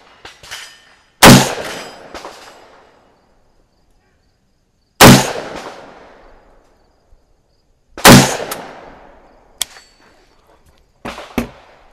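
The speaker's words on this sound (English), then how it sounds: "We'll fire a couple of shots, see where it's at." Gun fired at an outdoor range with brand-new, unbroken-in barrel and bulk ammo, four loud sharp shots spaced a few seconds apart, each with a decaying echo tail, plus a couple of smaller clanks.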